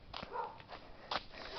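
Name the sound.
dog named Bati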